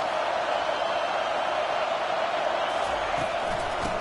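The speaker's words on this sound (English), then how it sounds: "This crowd bringing an ear-splitting welcome to their visitors." Loud stadium crowd at a Notre Dame football game, a dense, steady roar of cheering and noise that fills the space without pause.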